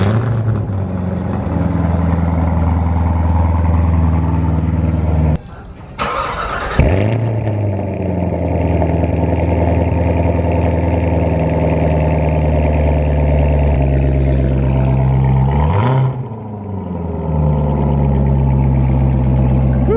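A 2019 Chevrolet Corvette ZR1 cranks and fires with a loud roar, settles into a deep, steady idle, then is shut off and restarted, close and loud throughout with no talk.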